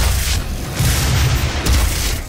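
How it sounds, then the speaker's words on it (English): Plasma cannon fire in the video game Doom, a continuous run of heavy, booming low-end blasts lasting a couple of seconds, loud and close with a brief dip in the middle. "Come over here and say that to my plasma cannon!"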